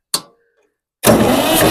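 A 1962 Massey-Ferguson 35 Super Deluxe tractor: a sharp click, a second of silence, then the engine turning over with a loud, dense, steady cranking roar, close by.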